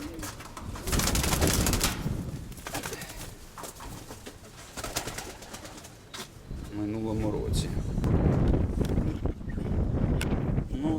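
Pigeons in a small pigeon loft coo in low, rolling bursts, the clearest run mid-way, amid steady wind rumble and handling noise, with a person talking at times nearby.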